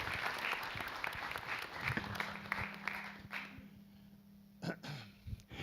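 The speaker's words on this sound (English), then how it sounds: "Give him a huge round of applause." An audience at a local storytelling event applauds the control board operator, a moderate wash of clapping that thins out over a few seconds, leaving a steady hum and a few scattered claps.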